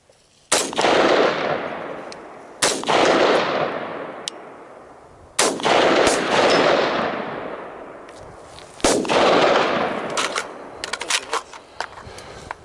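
Four loud rifle shots crack out several seconds apart on an outdoor overland shooting course, each trailing a long rolling echo, with faint distant clicks that may be bullets hitting heavy steel targets downrange.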